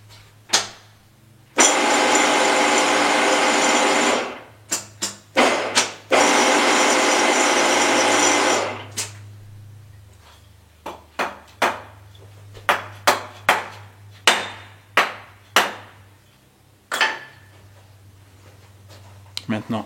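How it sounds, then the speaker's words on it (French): Sharp mallet taps on a steel milling vise, about a dozen distinct knocks spaced irregularly after two long bursts of power tool noise, close and loud in a workshop. "je vais tapoter avec le maillet sur l'étau pour justement rattraper ces 3 centièmes de mauvais réglage"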